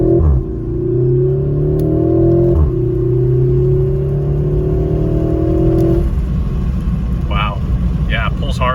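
Porsche Macan fitted with a Flat 6 Motorsports intake system accelerating hard, engine note rising steadily through one gear, dropping at a shift, then climbing again before easing off, heard from inside the cabin with brief speech near the end.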